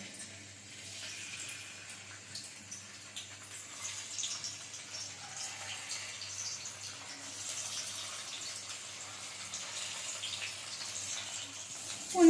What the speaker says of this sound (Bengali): এবার পনিরগুলো এখানে হালকা করে ভেজে নেবো